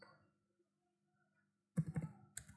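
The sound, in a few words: typing on a computer keyboard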